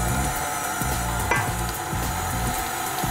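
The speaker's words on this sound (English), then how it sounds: "Keep the blender going on a low speed." Electric beater running at low speed, mixing sponge cake batter with milk, eggs and baking powder in a bowl, giving a steady continuous whirring drone with faint clinks, no talking.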